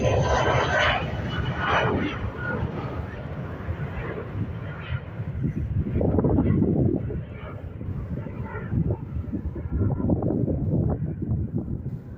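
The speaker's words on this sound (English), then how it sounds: "It's an Airbus A320." An Airbus A320 airliner passes at an airport, with a loud, broad jet engine roar and wind noise that fade as it moves away, while someone talks over it.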